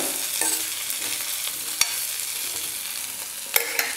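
Potato pieces sautéing in hot oil in a home kitchen pan, a bright continuous sizzle up close with a few sharp spoon clicks against the pan.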